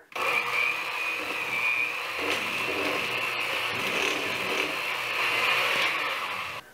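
An electric mixer beats gluten-free red velvet cupcake batter of butter, honey, egg yolks, vanilla and apple cider vinegar, giving a loud, steady whirring drone that runs unbroken for about seven seconds with no voices.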